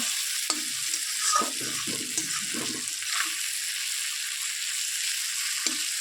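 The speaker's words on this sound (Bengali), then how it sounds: "দেখতে পাচ্ছ মাছগুলা তেলের মধ্যে ভাজা হচ্ছে" Fish frying in oil while being stirred in a pan, a continuous close sizzle broken by soft scraping and clattering strokes of the spatula.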